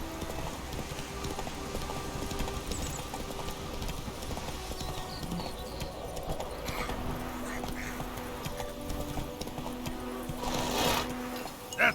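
Geralt's horse Roach from The Witcher 3 clip-clopping along at a steady pace, hoofbeats running continuously under a dense bed of game ambience and music, fairly loud throughout.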